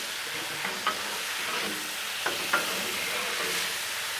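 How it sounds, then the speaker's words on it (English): Shrimp simmers in Caribbean sauce on a Blackstone griddle, a steady hissing sizzle with a few light taps of a spatula, close and even, no voices. "Let that shrimp kind of simmer in that sauce for just a minute."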